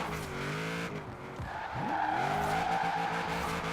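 A Nissan 240SX SE drifts in Forza, its engine droning and revving up and down while the tires squeal and screech in a sustained slide, loud and close, with no voices.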